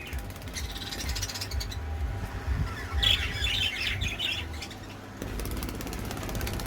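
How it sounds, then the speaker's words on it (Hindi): Birds splashing while bathing in water let out loud squawks and chirps over a restless rattling and fluttering, close and continuous. "बर्ड्स कितने मज़े से नहा रहे हैं।"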